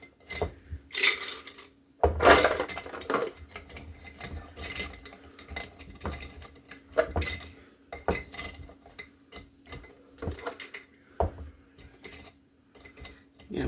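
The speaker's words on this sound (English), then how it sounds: "We're going to put some cinnamon sticks in this jar." Cinnamon sticks dropped into a glass jar, giving sharp, irregular clinks and rattles close up, several loud knocks among softer clatter, with a low steady hum underneath.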